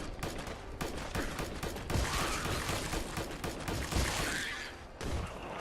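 Rapid, dense gunfire from Fallout 4: Far Harbor, aimed at a mole rat, crackles in a busy, continuous burst of overlapping shots and mechanical clatter, fairly faint overall with no talking.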